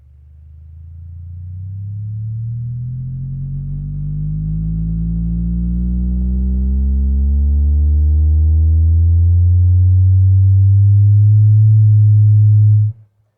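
A loud, low droning tone from a Boston Acoustics A-60 bookshelf speaker's 8-inch woofer slowly rising in pitch into a whistle, holding steady for several seconds before cutting off abruptly.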